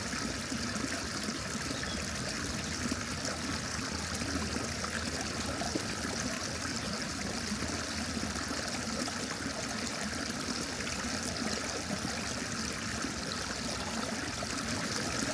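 A clear, shallow UK stream flows and trickles steadily, a continuous broadband wash of running water close by with no voices.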